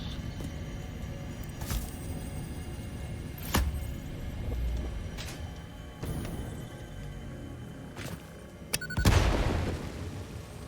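Repeated booming explosions in the video game Satisfactory go off every second or two over a steady rumbling background, ending in a larger, louder blast near the end.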